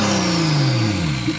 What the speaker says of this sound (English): you can definitely hear everything rattling in this car, because we're running an open dump right now and a downpipe on this car